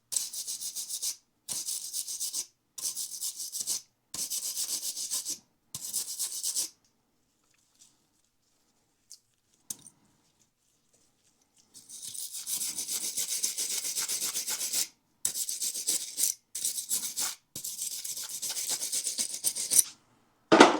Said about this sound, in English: My new brake pads didn't come with new shims, so we're gonna clean those off.